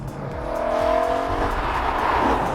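A BMW E92 M3 with a V8 engine revs in a loud, sustained, close drone that rises in pitch and then holds high, with no talking.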